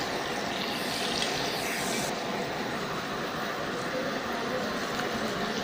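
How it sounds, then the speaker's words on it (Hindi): Water is poured into a pan of oil with crushed ginger, garlic, onion and green chilli for aloo palak, a steady rushing hiss that stays even and fairly quiet throughout. "थोड़ा सा पानी डाल दें"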